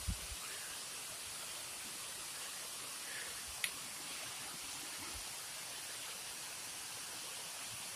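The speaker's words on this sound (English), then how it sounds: "Just another good waterfall." A waterfall along a hiking trail near the Blue Ridge Parkway, heard as a steady, even rush of falling water, moderately distant, with no talking.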